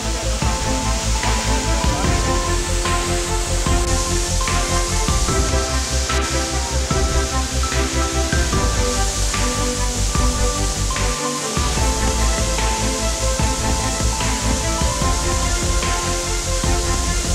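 A waterfall on a mountain stream in a canyoning area roars in a steady, loud, unbroken rush of falling and spraying water that fills the whole stretch.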